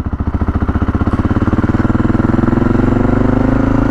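A Honda XR650L motorcycle's four-stroke single engine runs close by after being started, a loud rapid thumping idle that rises slightly in pace and level over a few seconds, with no talk.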